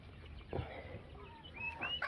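Newly acquired chickens give a few soft, close clucks and short squawks against a quiet background, with no talking.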